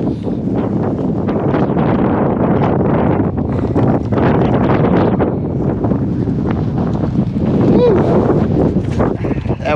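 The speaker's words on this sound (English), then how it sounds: "It's windy up here." Strong wind buffets the microphone at a campsite in the rain, a constant, loud roar with low rumbling gusts throughout, no clear speech.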